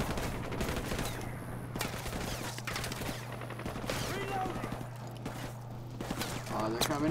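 Gunfire from Call of Duty 4: Modern Warfare during an ambush mission: dense, sustained volleys of automatic weapons fire with steady low rumble, loud and continuous throughout, with some shouting mixed in.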